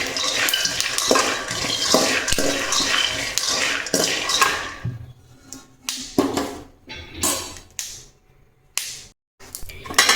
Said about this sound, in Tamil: ஒரு அடுப்பில் எள்ளு, ஒரு அடுப்பில் வேர்க்கடலை வச்சு வறுத்துட்ருக்கேன்